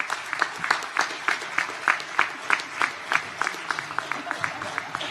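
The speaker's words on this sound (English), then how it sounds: "give them a round of applause for all of their support and guidance" An auditorium audience at a white coat ceremony gives a sustained round of applause, dense rhythmic clapping from a large crowd heard from within the hall, with no speech over it.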